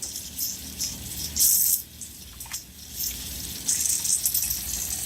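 Tap water runs over hands being rinsed beneath a faucet, a soft, continuous splashing with a few brighter gushes and a brief drip, heard close and alone.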